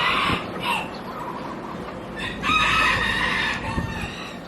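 Black-mottled bantam breeding chickens, brought outdoors to sunbathe, crow loudly nearby in a couple of drawn-out calls, with softer clucking between them.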